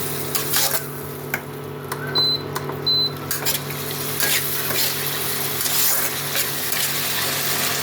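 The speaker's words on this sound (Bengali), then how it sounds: "মশলাটা ভালো করে আমি কষিয়ে নেব" Spice paste with salt, cumin powder and turmeric fries in oil and butter with garlic for a chicken dish, a steady close sizzle with occasional spoon scrapes against the pan and two faint high beeps partway through.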